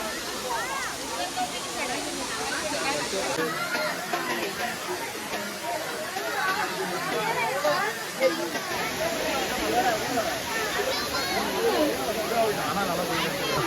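Water of Kiliyur Falls in Yercaud rushes and hisses steadily as it falls, a broad continuous roar with people chatting in the background throughout; the flow is low.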